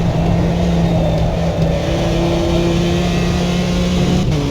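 A racing-game car engine held at a steady, loud rev in a low gear, a sustained droning whine that climbs slightly in pitch, alone without talk.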